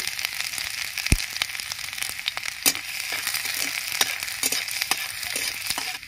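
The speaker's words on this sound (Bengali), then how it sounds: "এঁচড় ভাজার তেলের মধ্যে আমি রসুন আর আদা কুচি দিয়ে দিচ্ছি।" Chopped garlic and ginger fry in oil left over from frying jackfruit, a steady sizzle punctuated by sharp crackles and pops, with one loud clack near the start.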